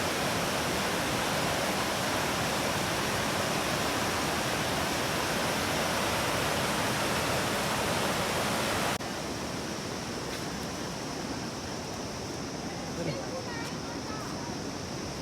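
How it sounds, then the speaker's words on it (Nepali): White-water river rushing near a bridge linking Samba and Thuki, a steady broadband roar that drops in level partway through and continues more softly to the end. "यहाँ त सेतीको पोखराको सेती जस्तै बग्दो रहेछ, सेतो पानी बग्दो रहेछ।"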